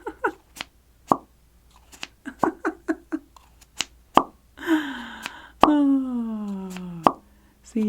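Small object making little pops during a cozy, soft-spoken ASMR session: close, quiet taps and clicks in an uneven pattern, followed by a couple of longer sliding tonal sounds, with no clear talking.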